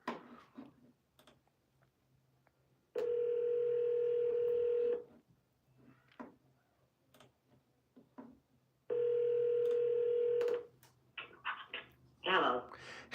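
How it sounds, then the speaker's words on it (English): Cell phone call being placed: a short burst of dialing tones, then two long ringback tones separated by a pause, clear and close, with faint clicks and a voice briefly at the end. "So let's try this cell phone number here."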